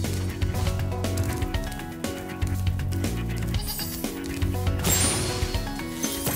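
Sheep bleating in the video game Spyro Reignited Trilogy, several short bleats heard over looping game music with a steady melodic backing throughout.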